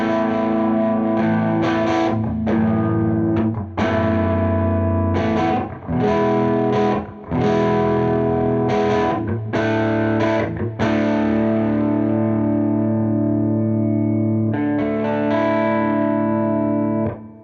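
Distorted electric guitar played through a Universal Audio OX amp top box with heavy reverb, loud sustained chords and riffs with brief stops and long ringing tails.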